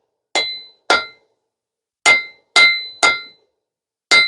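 Six sharp hammer blows ring out on metal being forged into a three-sided taper, irregularly spaced with short pauses, loud and close with a bright metallic ring, no talk.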